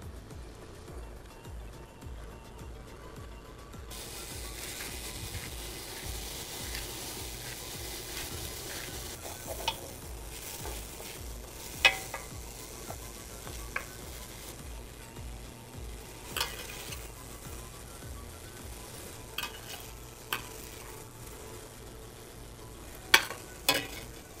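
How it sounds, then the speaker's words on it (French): Chicken pieces frying in oil in a wok, a continuous quiet sizzle with scattered clicks and scrapes of stirring, no voices. "On va faire revenir le poulet dans l'huile jusqu'à temps qu'il soit complètement cuit."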